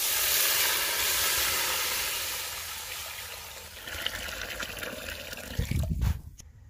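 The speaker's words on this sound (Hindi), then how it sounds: "अब हम पानी शामिल कर देंगे।" Water pours into a hot pot of fried spices for village-style egg dum biryani, a loud continuous rushing hiss that eases, then gives way to bubbling and a few knocks before stopping.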